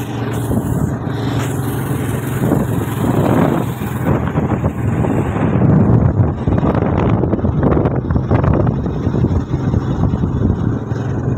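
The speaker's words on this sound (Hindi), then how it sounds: "छिड़ी छिड़ी हवा चल रही है" Steady wind blows across a mountain at Mussoorie in Uttarakhand, a continuous close rumble buffeting the microphone with no pauses throughout.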